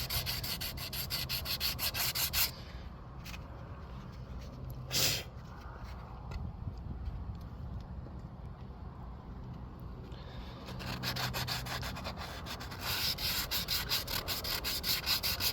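Sandpaper rubbed by hand over a model rocket, a steady scratchy sanding sound in continuous strokes with a few brief pauses, close and moderately loud.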